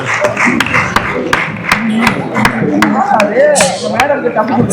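Audience applause welcoming an award winner on stage at an award show in Dubai: steady clapping throughout, with a host speaking over it.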